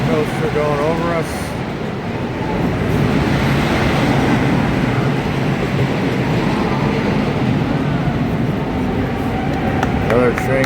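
A roller coaster train at a night-time amusement park runs by in the opposite direction, a steady loud rumble and roar across the whole stretch, with voices briefly audible under it.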